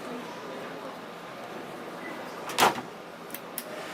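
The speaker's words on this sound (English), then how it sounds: "Here, I'll show you the cutlery drawer." A cutlery drawer in a Sprinter campervan conversion slides open with a single quick rattling scrape, followed by two faint light clicks, over a soft steady background hiss.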